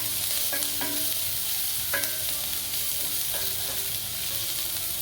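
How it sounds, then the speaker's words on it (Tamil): Onions sauté in a pan for chicken bonda, a steady close sizzle broken by a few sharp clinks and scrapes of a spatula against the metal. "வெங்காயம் வதங்கும்போது"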